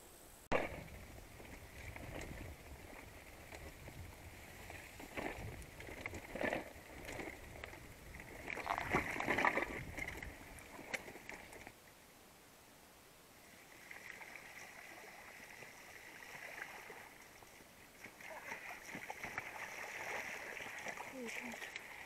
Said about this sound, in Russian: обожаю по таким ездить лужам, по таким дорогам